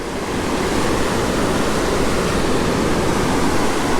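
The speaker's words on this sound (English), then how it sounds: "they let the water out underneath these steel gates. That's why you see it looking like it's churning back in there" Water churns and rushes steadily as it is released beneath the steel gates of Dam 14 and its locks, a dense, continuous roar at close range with no voices.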